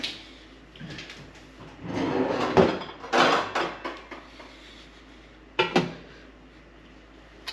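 A lid clatters back onto a pot of split pea soup with ham, giving several knocks and scrapes of metal in a cluster, then one more sharp clank a few seconds later, close and fairly loud.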